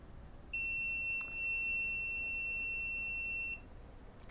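A multimeter's beeper gives one steady electronic tone lasting about three seconds during a bench repair of a MacBook Air, faint and clean over low background hiss.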